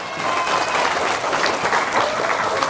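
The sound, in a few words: audience applause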